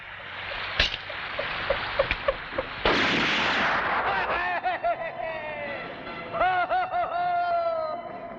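A gunshot fired into the sky in a Raaj Kumar film scene, a loud sharp crack standing out near the start, followed by further impacts and a scream-like wail, with background music.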